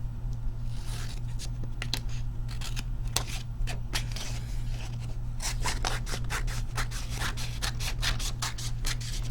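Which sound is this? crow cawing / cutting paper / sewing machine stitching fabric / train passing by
cutting paper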